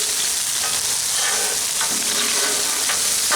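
Diced potatoes frying in sausage fat on a Blackstone griddle, a loud, dense and continuous sizzle with light scraping as they are turned, heard up close with no talk.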